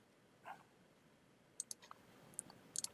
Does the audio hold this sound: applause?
no